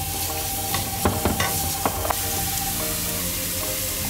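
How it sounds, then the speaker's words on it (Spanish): Garlic toasts in hot oil in a pan for Korean japchae, a steady close sizzle broken by a few sharp scrapes and taps from stirring, with no talking. "coloquen un poco de aceite y metemos una cuchara de ajo y tostamos"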